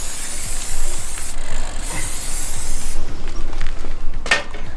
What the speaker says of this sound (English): You're going to aggressively spray away the cassette.